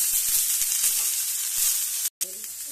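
Cauliflower florets and potato pieces browning in a hot pan, a dense, even hiss of frying that runs steadily up close, dropping out for an instant before resuming.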